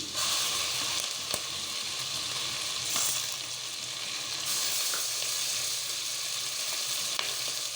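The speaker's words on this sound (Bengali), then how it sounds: "এখানে হাফ কাপ পেঁয়াজ বাটা দিয়ে দিচ্ছি।" Half a cup of onion paste fries in a pan with small cardamom pods and torn bay leaves for a chicken soup, giving a steady, dense sizzle that holds throughout with a few faint clicks and no voices.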